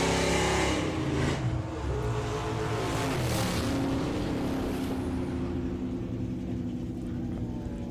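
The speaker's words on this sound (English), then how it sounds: "blowing the tyres away" A drag racing car at a nostalgia drag meet roars off the line with its tyres spinning, a loud sustained engine howl that dominates the clip, close and continuous throughout.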